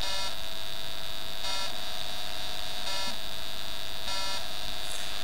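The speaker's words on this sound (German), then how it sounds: "dann kann ich dem internen Controller beim Rechnen zuhören" An electrosmog detector held to a calculator renders its processor's computing as a constant buzzing hum with rhythmic pulsing bursts of brighter tone about every second and a half, steady and alone.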